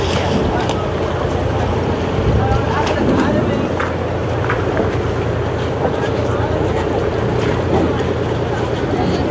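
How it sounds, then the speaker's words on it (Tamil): A ferry boat engine bound for Delft island churns with a loud, steady low rumble mixed with wind and water wash, while a person speaks over it. "கரிகணன் அப்படின்னு சொல்லிட்டு ஒரு போட்டு வருதுங்க"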